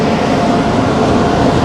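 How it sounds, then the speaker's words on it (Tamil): An express train hauled by a WAP 7 electric locomotive rolls into a station, producing a loud, continuous broadband rumble that holds steady throughout, with no voices heard. "அப்படியே இங்கிட்டு வந்து பார்த்துக்கிட்டிங்கன்னா ஒரு ட்ரெயின் அரைவல் ஆகுது"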